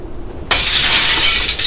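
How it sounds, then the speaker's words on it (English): After a short quiet lull, cabin window glass bursts loudly as a branch crashes through, a sudden bright shatter followed by a sustained spray of tinkling, scattering shards. "A branch flew through one of the windows in the cabin, throwing glass everywhere"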